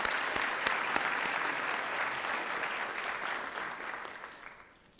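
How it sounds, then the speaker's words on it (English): Sustained applause from a sizable crowd at a university anniversary celebration, steady clapping that gradually fades toward the end. "Let's give everybody a round of applause."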